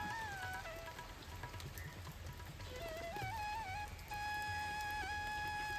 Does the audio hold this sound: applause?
no